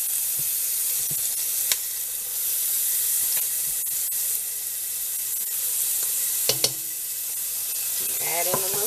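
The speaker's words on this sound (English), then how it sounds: "now I'm going to add my garlic" Garlic hits bacon grease and onions in a Dutch pot with a steady, close sizzle and hiss, punctuated by a few clinks and stirring scrapes.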